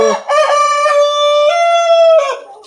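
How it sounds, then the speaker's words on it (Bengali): Large roosters, around four kilograms each, crowing on a Tiger chicken poultry farm; one long, loud, close crow rises and holds steady for about two seconds before trailing off, with no talk. "মোরগগুলো ডাকতেছে"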